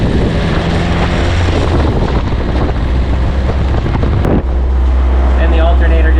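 A Mazda Miata with a rear wing modification is driven on the road, giving loud, constant wind rush and engine and road noise throughout, with one brief dip partway through.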